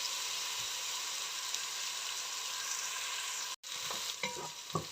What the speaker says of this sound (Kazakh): Міне пиязымыз.